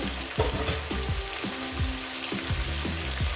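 Potatoes frying in oil with a steady hiss and sizzle, while a spatula scrapes and stirs through the pan in regular strokes.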